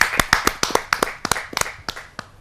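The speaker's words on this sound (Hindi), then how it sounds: "जहाँ जोरदार तालियों के साथ हम उनका स्वागत करते हैं।" Scattered hand claps from a small audience at a Hindi poetry gathering welcoming a humour poet, a dozen or so sharp separate claps in an uneven rhythm, close and clear with no talking.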